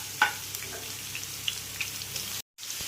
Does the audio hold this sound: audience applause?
no